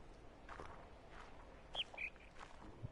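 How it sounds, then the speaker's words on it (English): A few faint bird chirps ring out in the video game The Witness over quiet ambient noise and soft footsteps. "yeah, I'm getting a lot of chirps."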